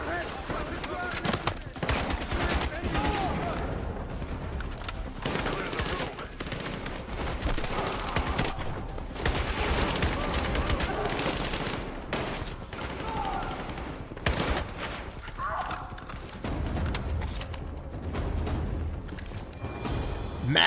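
Dense, sustained gunfire from a Battlefield 6 shooter game: rapid automatic bursts and crackling shots fill the whole stretch, with heavier booms mixed in and voices talking over the battle.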